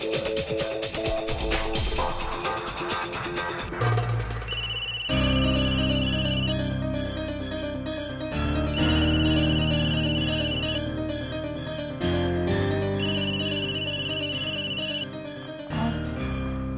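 A mobile phone ringtone for an incoming office call plays as a bright, repeating electronic melody. It is steady and fairly loud throughout, with no voices.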